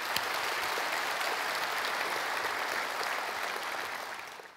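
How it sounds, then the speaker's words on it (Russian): Church congregation applauding in thanks to God, a dense, steady wash of many hands clapping together that holds level and then tapers off at the end. "Поблагодарите Его аплодисментами"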